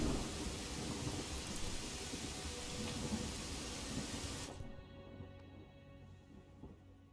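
A thunderstorm in Pathfinder Wrath of the Righteous video game, a dense rush of rain and rolling thunder that cuts off abruptly after four and a half seconds, leaving a faint low rumble.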